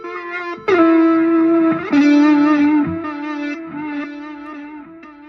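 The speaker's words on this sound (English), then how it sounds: "Reverse delay." Electric guitar notes played through a reverse delay effect on a Positive Grid Spark 40 practice amp swell and smear into each other, sustained and heavily processed, with no talking.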